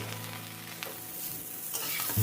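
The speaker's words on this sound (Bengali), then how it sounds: "তেলটা কমিয়ে নিয়ে ফুলকপিটা আমি ভেজে নিচ্ছি।" Cauliflower frying in a reduced amount of oil for a katla fish curry, a soft steady sizzle with a light clatter of stirring near the end, quiet and without talk.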